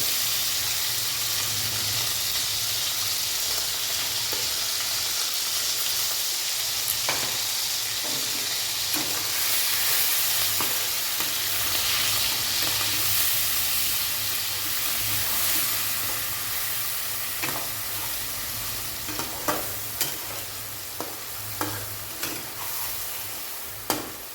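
Ground spice paste sizzles in hot oil in a pan for a fish curry, a steady close frying hiss with occasional sharp pops and spatters growing more frequent toward the end.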